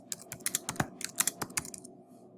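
Close, crisp keystrokes on a computer keyboard in quick, irregular bursts of clicks, fading to quiet near the end, with no voices.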